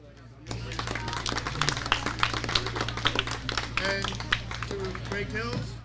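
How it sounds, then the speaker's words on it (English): Girls from a 12U softball team clap for themselves after a championship game, with a lively round of hand clapping starting abruptly and going on, and excited young voices shouting over it. "So, give yourselves a round of applause, girls."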